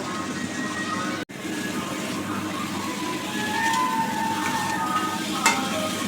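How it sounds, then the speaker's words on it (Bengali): Cauliflower and potato pieces are stir-fried in a pan for a vegetarian curry, with a continuous low sizzle under occasional scraping and a sharp clatter near the start, followed by a brief clink later. "এবার ফুলকপি আলুগুলো দিয়ে একটু কষে নেব।"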